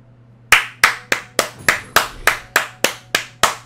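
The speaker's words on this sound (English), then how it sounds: "Give him a clap." About ten separate sharp hand claps ring out close and loud in a slow, slightly uneven rhythm, each with a brief room decay, with no voices.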